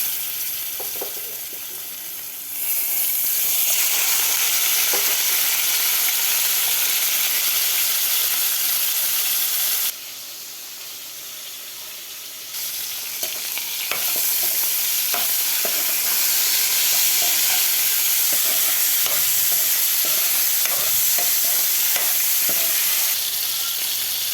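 Fish pieces dusted with turmeric frying in a pan, a loud, continuous hissing sizzle with a brief quieter lull and occasional stirring clicks, up close with no voices.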